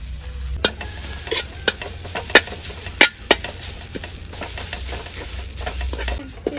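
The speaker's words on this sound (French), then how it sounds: "il faut faire griller le coco râpé à part" Grated coconut is stirred and toasted dry in a pan, giving a soft continuous scraping hiss broken by sharp clicks and taps of the utensil against the pan.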